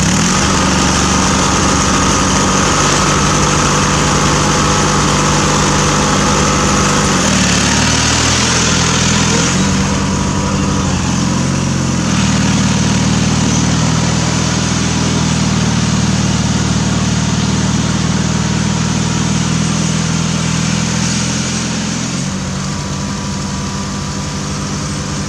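A riding lawn mower grinds through a sand pit under load, its small engine droning loud and continuous, the pitch dipping and recovering as it bogs and pushes on, with no voices.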